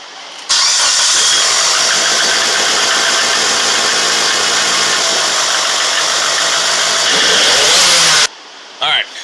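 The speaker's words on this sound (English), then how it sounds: "It has a cam in it too. It's hunts for an idle." A 2005 Lancer Evolution engine fitted with an aftermarket cam idles roughly while hunting for a steady idle, loud and close for about eight seconds before cutting off abruptly.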